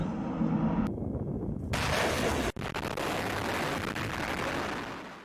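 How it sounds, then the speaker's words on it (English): An M270 multiple launch rocket system fires its rockets: loud, sustained roaring blasts with a sharp crack in the middle, steady rushing noise throughout and no talk. "This is America's M270 rocket launcher."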